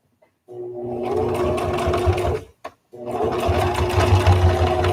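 A sewing machine stitches a tie-back face mask in two close bursts, a steady run of about two seconds, a brief pause with a tiny blip, then another sustained run.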